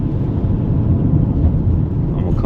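A 2005–2010 Honda Odyssey 3.5 VTEC engine running while driving after a tune-up, a steady low rumble of engine and road noise, close and constant throughout with no talk.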